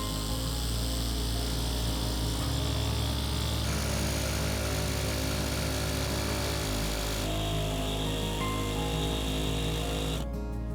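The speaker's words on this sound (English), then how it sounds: "So now we're done drilling, so we can pop these pieces out." A power drill cuts a circular chimney hole through the wooden roof of a barrel sauna, giving a loud continuous motor whine that steps between a few steady pitches for about ten seconds, with no talking.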